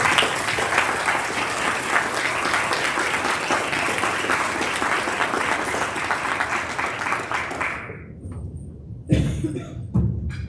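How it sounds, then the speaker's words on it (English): Audience applause at a policy forum on disaster resilience, dense clapping filling the room for about eight seconds before stopping abruptly, followed by a few scattered claps and a cough. "Let's give Dan a round of applause."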